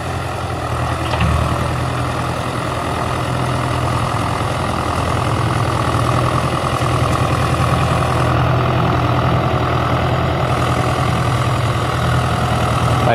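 A rebuilt Ford 881 diesel tractor with a Select-O-Speed transmission runs steadily after its first start, a loud, continuous low engine drone and rumble that holds even throughout with no talking.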